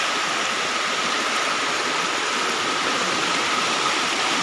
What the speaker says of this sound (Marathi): कसं वेगानं पाणी वाहत आहे